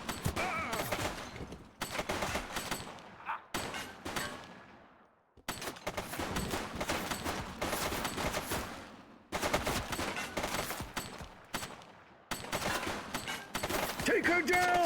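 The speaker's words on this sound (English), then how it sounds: "He's shooting!" Video game shootout gunfire, bursts of rapid shots and fusillades recurring in several loud stretches separated by brief pauses, with voices calling out amid the shooting.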